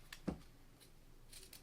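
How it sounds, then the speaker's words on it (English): Scissors trimming a pressed quilt block for a King's Crown pattern: a few quiet, close snips, one sharper cut near the start, with no voices. "And I'm going to quickly give that a trim."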